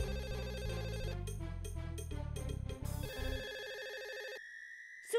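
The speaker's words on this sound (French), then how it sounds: "Ça sonne, va répondre, bon sang!" An electronic telephone ringtone plays a loud, fast melodic pattern of repeated tones, shifting to sustained higher beeps before cutting off, with no speech over it.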